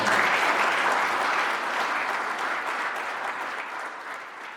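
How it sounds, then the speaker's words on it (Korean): A seminar audience gives Governor Won Hee-ryong a warm welcome, loud sustained clapping from a room full of people that slowly tapers off. "원희룡 지사님을 큰 박수로 환영해 주시면 감사하겠습니다"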